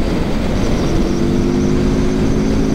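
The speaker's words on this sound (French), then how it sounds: "Ah, ça gronde. Il y a le bruit de la boîte à air." A deep, steady Moto Morini Seiemmezzo motorcycle engine roar fills the clip, loud and continuous with a low droning rumble and breathy airbox intake noise while accelerating out of town, no voices.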